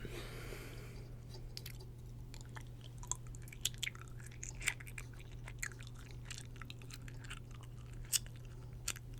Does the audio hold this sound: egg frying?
no